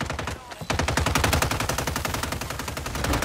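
Rapid automatic gunfire in the Call of Duty video game, Nuke map, with a dense, evenly spaced stream of shots that starts after a brief lull and keeps going close and loud.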